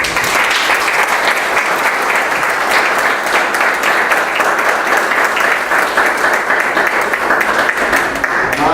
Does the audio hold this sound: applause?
yes